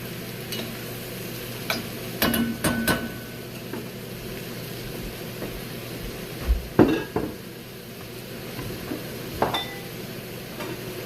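Beef bourguignon stirred in a pot gives scattered clinks and scrapes of a spoon against the metal over a faint background hiss, close, in irregular bursts with no talk.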